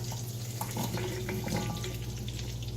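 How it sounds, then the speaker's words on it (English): A few tablespoons of water added to a hot pan of asparagus, a close steady hiss and bubbling sizzle with light crackles throughout. "And then I'm going to add a few tablespoons of water."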